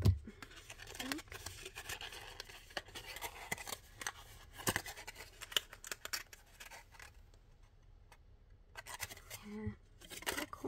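Scissors snip through cardstock for a diagonal lidded paper gift box, giving a run of close, crisp cuts and papery scratches in a quiet room, with a brief voice near the end.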